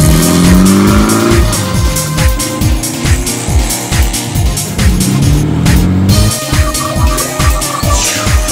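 Cars race in the video game WIDGET Quest To Fringe Isle, with loud, continuous engine roar and repeated revving pulses overlaid by drawn-out tire squeals and skids, no voices over it.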